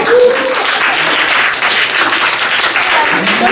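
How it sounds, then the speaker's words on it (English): Applause at a cross-cultural leadership workshop, a dense, steady crowd clapping that holds fairly loud throughout, with faint voices underneath. "Give them a big applause again."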